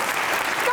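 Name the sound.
studio audience applause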